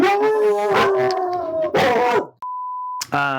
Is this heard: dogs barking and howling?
yes